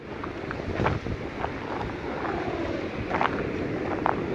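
Steady wind buffets the microphone outdoors while an HQ Fazer XL kite is flown, a continuous rushing roar with faint scattered clicks and flutters, no talk.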